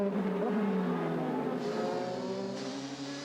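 DTM race cars at Barcelona in 2007, an Audi closely followed by three Mercedes-Benz, scream past with a loud, high engine whine that shifts pitch as they accelerate and change gear.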